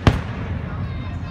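Fireworks explode at the Stanford fireworks show, with one sharp, loud burst at the start, then a low rumbling echo and distant crackle fading behind it.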